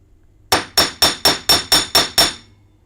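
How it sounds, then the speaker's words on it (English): A hammer strikes a burred metal edge to flatten it, eight sharp ringing blows in an even, quick rhythm, loud and close, with no talking. "I'm hammering it down because it's a little bit, shall we say, burry."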